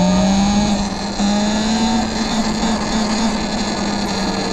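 Budget electric motorbike ridden fast, its motor giving a steady rising whine that climbs slowly in pitch over constant loud wind rush, with no voices.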